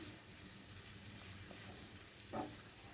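Banana flower sautéing in a pan over low gas gives a faint, steady sizzling hiss throughout, with one brief soft clink of a utensil near the end.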